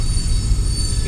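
A freight train rumbles past up close at Horseshoe Curve, a loud, heavy, continuous roar with a faint high whine of wheels on rails.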